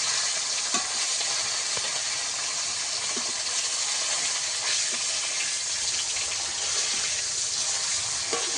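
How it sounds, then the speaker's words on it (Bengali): Live rupchanda fish fry in hot oil in a home kitchen, a dense, steady sizzle with occasional small pops and spatters throughout. "একইভাবে এই মাছগুলোকেও ভেজে নেব।"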